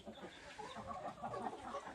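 Several chickens cluck softly nearby in a continuous, low murmur of short calls.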